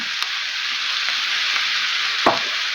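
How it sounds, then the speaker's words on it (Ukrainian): A constant hiss of mushrooms and onions sizzling in a hot pan, with a few faint clicks of stirring and no talking. "додаємо сюди цибульку і смажимо гриби разом з цибулею."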